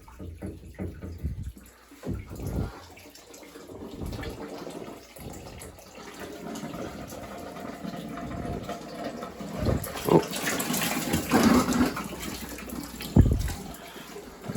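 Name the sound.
water draining out while replacing old boiler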